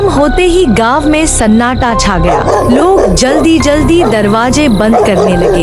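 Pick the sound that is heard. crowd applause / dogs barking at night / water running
dogs barking at night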